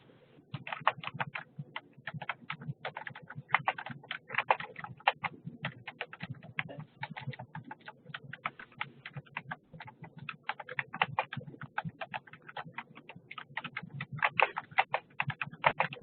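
Steady rapid clatter of computer keyboard typing, close and continuous, with uneven bursts of keystrokes and no talking.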